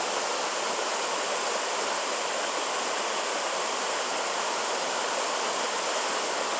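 Steady, full rushing roar of a flooded creek about 20 feet away on rural family property, constant and broadband with no breaks or voices.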